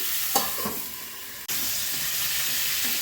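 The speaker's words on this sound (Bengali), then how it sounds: "ফুলকপিগুলো ভাজা হবে" Cauliflower pieces fry in oil in a pan for a rohu fish curry, giving a loud, steady, close-up sizzle with a brief stirring scrape near the start and a momentary break midway.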